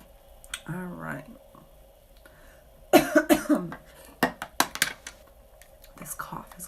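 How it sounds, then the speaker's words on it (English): Someone coughs sharply a few times at close range, mixed with quiet murmured speech and faint clicks. "This cough has got to go."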